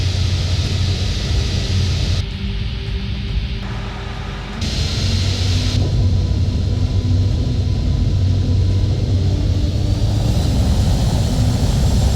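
Boeing 737-800 taking off in a flight simulator, a loud steady jet engine roar with a rising whine as thrust builds, continuous throughout with no talk.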